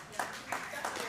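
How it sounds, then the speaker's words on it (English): A few sharp hand claps, roughly three quick bursts, ring out in the warm room at a curling mixed nationals semifinal as a player comes off the ice, with people talking over them. "We got hand claps in the warm room for Falco coming off the ice."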